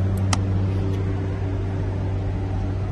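A 1987 Chevrolet Blazer engine idles steadily, a continuous low mechanical hum with a faint tick or two near the start, heard up close with no talking.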